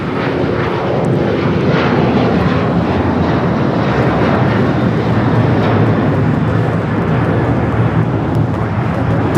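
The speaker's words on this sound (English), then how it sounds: "This is United Airlines 1571 taking off to Houston Intercontinental on the 737-900ER." A United Airlines Boeing 737-900ER takes off, its jet engines a loud, steady, broadband roar that fills the whole stretch without letup.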